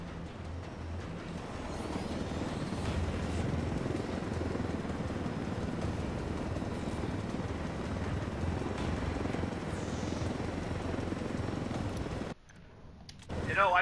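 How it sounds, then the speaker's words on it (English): A helicopter in the video game Ghost Recon Wildlands gives a steady, dense rotor and engine roar that runs unbroken for most of the clip before cutting off abruptly near the end. "I told Griffin I could figure out how to fly this thing. Qualify for planes. But not choppers?"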